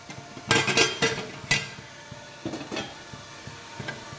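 Beans, potato and beet frying in a pan, with a few loud scraping clatters of a utensil stirring against the pan, then quieter stirring over a low sizzle.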